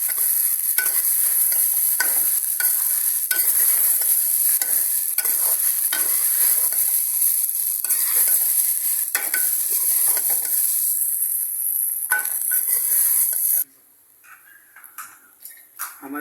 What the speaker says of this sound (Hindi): हम इसको अच्छी तरह मिक्स कर देंगे।